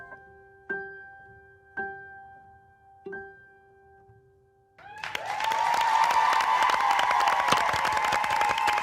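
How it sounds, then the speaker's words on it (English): A dance competition crowd erupts into loud, sustained cheering and applause, rising suddenly after a few sparse tones and holding dense and close for several seconds. "the crowd was cheering so loud that they could barely hear their intro music"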